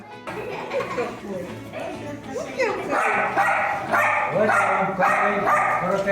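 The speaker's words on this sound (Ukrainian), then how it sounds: "Пса патрона запросили на відкриття 10-го безпечного освітнього простору у Харкові." A dog barks and yips at the opening of a safe school space in Kharkiv, short sharp barks rising over constant talk and crowd noise.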